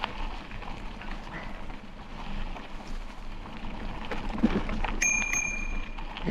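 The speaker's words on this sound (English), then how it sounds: "It is my bear bell." A bicycle bell rings out clearly near the end, a few bright repeated dings over steady outdoor rumble, serving as a bear bell on a ride through the Porcupine Lake Wilderness Area in Nova Scotia.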